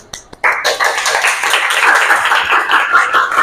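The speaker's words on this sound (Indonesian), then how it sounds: "Oke, tepuk tangan." Eighth-grade students in a junior high classroom clap their hands together, starting with a few scattered taps, then breaking into a dense, loud round of clapping that sustains to the end.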